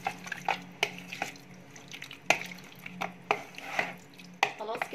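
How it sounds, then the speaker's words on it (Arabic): Chicken is stirred through a shawarma marinade with wet, squelchy slaps and clinks against the bowl, repeating in an uneven rhythm up close with no talking. "هنقلب كده كويس الفراخ في التتبيله"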